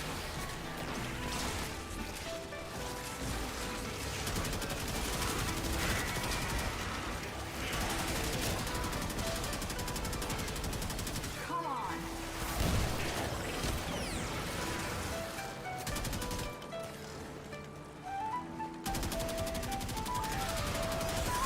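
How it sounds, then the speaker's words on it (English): A meaty assault rifle firing in Warframe: loud, dense bursts of rapid gunfire with crashing impacts and mechanical clatter, continuing almost without pause. "It's just a meaty assault rifle"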